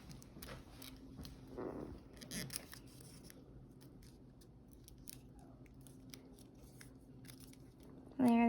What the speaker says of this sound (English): fold from that point down to the line again